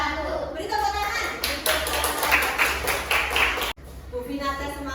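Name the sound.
class applause, clapping hands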